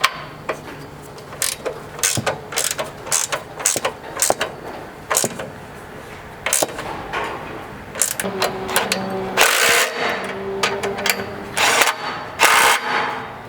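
Ratchet-style clicking and metallic tightening on a 9/16 bolt as Strike rock sliders are fastened to a 4th-gen 4Runner frame, a series of sharp, fairly close bursts with brief pauses, over faint background noise.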